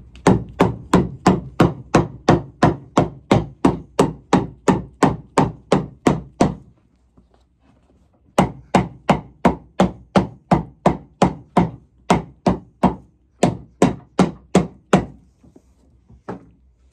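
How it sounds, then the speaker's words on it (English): Steady hammer blows driving a piece into an old boot, about thirty of them in two even runs separated by a short pause, sharp and close with nothing else around them. "And then hammer it in."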